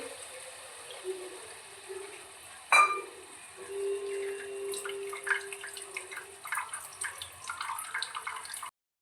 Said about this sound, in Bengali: আর একটু সর্ষের জল দিয়ে দেবো